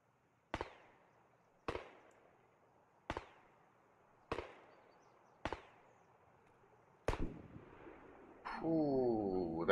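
Single SV-98 sniper rifle shots in Escape from Tarkov, six sharp cracks spaced about a second apart, each with a long echoing tail, followed by a louder rising mechanical whine near the end.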